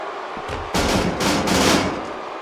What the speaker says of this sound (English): Using the steps as a weapon. What a shot.